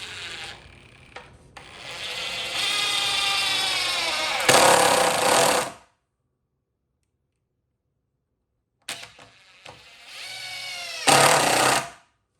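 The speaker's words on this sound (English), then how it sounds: "and put my screws in." A power screwdriver drives screws into a wooden workbench in two separate runs, each whirring and grinding as it builds and then stopping sharply, with a stretch of silence between.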